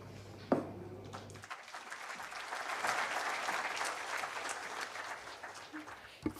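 A town hall audience at a governance legacy event in Namibia breaks into sustained applause, building after a sharp clap and holding as a dense, steady wash of clapping close to the listener, with no talk over it.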